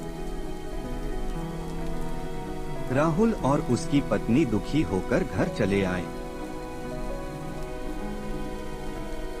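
Heavy rain pours steadily throughout, a dense, even hiss that never lets up, while a voice narrates in Hindi over the middle stretch.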